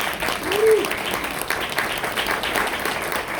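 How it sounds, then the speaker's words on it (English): An audience at an appreciation breakfast claps steadily for several seconds, a dense even applause in a room, with a brief voice rising above it near the start. "give Jason Snyder a big round of applause for taking on the job"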